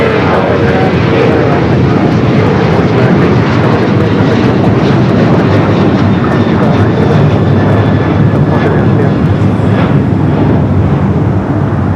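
A United Boeing 737-900ER jet takes off at Los Angeles airport, a loud, close, sustained engine roar filling the whole stretch, with some wind buffeting the microphone.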